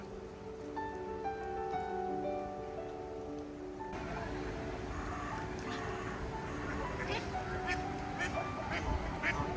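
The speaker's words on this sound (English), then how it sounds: "As well as the ducks, there was lots of these Canada geese" Ducks quack intermittently at a moderate distance against outdoor riverside ambience in Bakewell, Derbyshire Peak District, with faint background hum and occasional murmuring.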